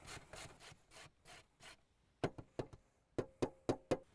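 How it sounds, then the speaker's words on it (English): Cosmic carrot being grated by hand in a kitchen, a close series of quick scraping strokes, softer rasps at first, then sharper, louder rhythmic swipes toward the end. "We're gonna grate some carrot in there because, I mean, these cosmic carrots are some of the best on the planet."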